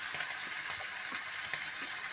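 White cumin seeds frying in oil left over from frying fish, a soft, steady sizzle with faint crackles and no voices.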